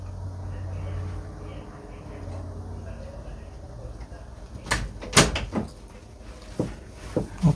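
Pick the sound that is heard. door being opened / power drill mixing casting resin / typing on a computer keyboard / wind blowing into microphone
door being opened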